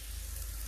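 Onions sizzle steadily in hot oil in a home kitchen, fried until lightly pink while cooking an eggplant and chana dal dish, a brief close continuous hiss.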